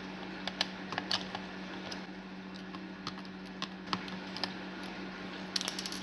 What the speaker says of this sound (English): Remove these 4 screws. You're going to need quite a small screwdriver for this.